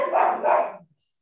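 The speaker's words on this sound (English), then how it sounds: "Sounds like cute dogs that are guarding the house" Dogs guarding a house give two quick close barks in succession, loud and sharp, then fall silent.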